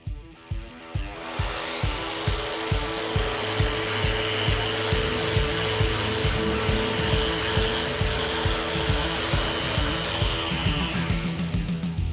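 Machine sanding of body filler on a Dodge Daytona, a steady loud whirring drone with a constant hum and rhythmic rasping pulses running the whole time, close up, with no talk.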